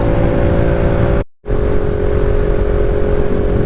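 A Kawasaki Z125 Pro motorcycle engine drones steadily at close range while riding on a food-delivery run, a continuous loud hum with a brief dropout near the middle.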